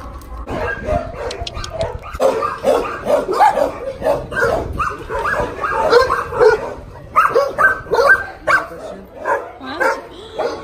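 A dog barks and yips excitedly up close, loud repeated barks mixed with whimpers in an uneven, nearly continuous run, with a little background noise.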